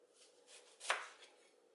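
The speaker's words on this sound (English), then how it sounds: "Just going to chop up the rest of this apple." A knife cutting through an apple on a board, one crisp close chop standing out from faint handling noise in a quiet kitchen.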